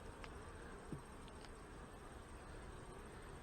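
Honey bees buzzing around an opened hive during an inspection, a faint, steady hum with a few brief louder passes of individual bees nearby.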